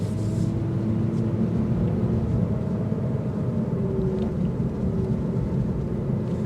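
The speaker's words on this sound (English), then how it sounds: "because it is a little bit lower to the ground, you're gonna hear a little bit more road noise" Steady low road noise and tire rumble fill the cabin of a 2022 Lexus RC 350 while driving, a constant broadband roar heard from inside with no talking.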